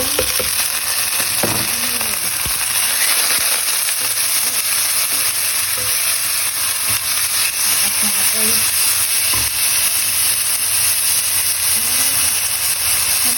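Garlic and vegetables fry in a pan for a Taiwanese stir-fry, a steady loud sizzle with occasional stirring clatter and faint voices in the background.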